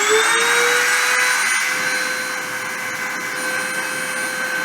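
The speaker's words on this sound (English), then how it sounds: "I'm going to start the spindle and start the deposition" A deposition printer's spindle spins up and runs as a steady, loud high-pitched whine with sustained tonal hum, holding level throughout with no talk.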